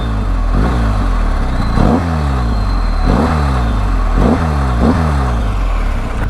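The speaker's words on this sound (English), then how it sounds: "listen to this exhaust note" BMW R1250GS boxer twin revving through its exhaust, close and loud, with repeated rising throttle blips over a steady deep idle rumble, alone without talk.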